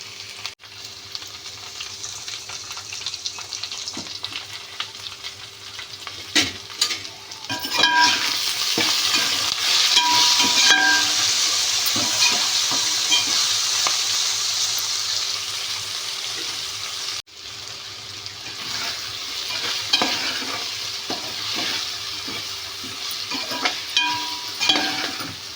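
Okra (lady's finger) fries in a pan and is stirred, making a loud, steady sizzle with scattered metallic scrapes and clinks. The sound dips briefly partway through, then the sizzle and stirring resume.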